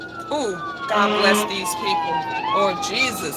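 An ambulance and a fire truck pass with wailing, sweeping sirens, fairly close and loud, while a person talks over them.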